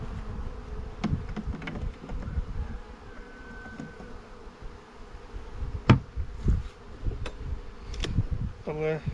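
Honey bees buzz steadily around hives at an apiary during the last honey extraction of the season, a dense droning swarm with occasional louder passes close by and a few knocks and clicks beneath it.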